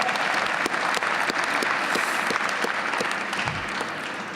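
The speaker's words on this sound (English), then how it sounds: "You should be cheering them." A graduation ceremony audience claps and cheers for the graduates, a dense sustained wash of applause from a large crowd that holds steady and then begins to taper slightly toward the end.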